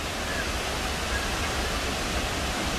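Steady, dense roar of rushing water from the Misol-Ha waterfall in Chiapas, Mexico, continuous and unbroken nearby, with no other sounds standing out.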